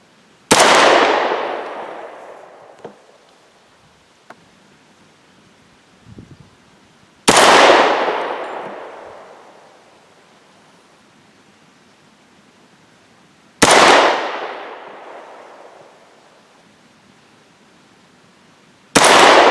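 Subsonic 300 Blackout rifle shots with Palmetto 203-grain projectiles, handloaded with Lil'Gun powder: three loud, sharp reports spaced several seconds apart, each ringing out and fading slowly, with a fourth shot starting right at the end and faint handling noises between.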